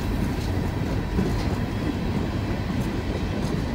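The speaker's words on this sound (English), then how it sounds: "In the UK, they call this train a top and tail with a locomotive on both ends." A top and tail freight train with a locomotive at each end passing close by, a loud continuous rumble of wheels and cars with faint rhythmic clatter throughout, no voices.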